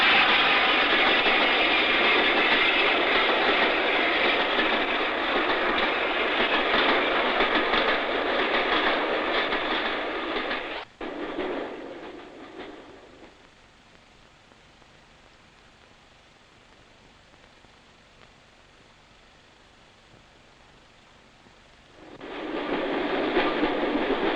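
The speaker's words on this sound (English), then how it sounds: "the modern diesel-hauled express thunders over the junction and begins the long climb" A modern diesel-hauled express train thunders loudly and steadily past a railway junction, then drops away abruptly and falls quiet before the roar returns near the end.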